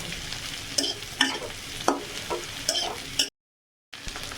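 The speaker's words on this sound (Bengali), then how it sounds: "এগুলোকে সবগুলোকে ভালো করে একটু সময় ভাজবো।" Vegetables stir-fried in a pan, a steady sizzle broken by repeated scraping strokes of a spatula, close up, with a brief silent gap near the end.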